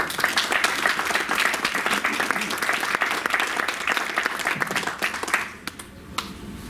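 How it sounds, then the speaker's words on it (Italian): A press-conference audience aboard the MSC Magnifica warmly applauds a colleague being welcomed, continuous clapping that fades out near the end with a few last claps. "Lo accogliamo con un grosso applauso"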